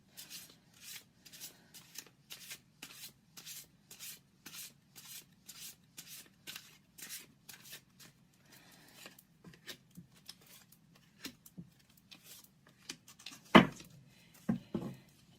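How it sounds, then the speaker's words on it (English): Rhythmic riffling and soft slapping of a tarot card deck being shuffled over and over, steady and close, ending with a few sharper taps. "cards. Really easy to shuffle."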